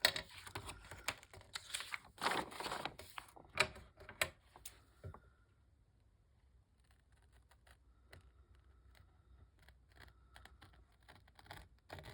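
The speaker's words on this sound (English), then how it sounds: "So I'm going to take my pencil and just kind of, mark around it so I can cut it to fit on the back." A pencil marking around a sheet of paper on the back of a frame: a dense burst of scratchy, clicking strokes up close, then a quieter stretch of faint, intermittent scratches and taps, with no voices.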